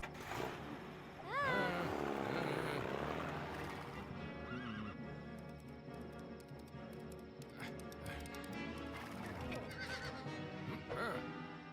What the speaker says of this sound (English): and hop on one of these horses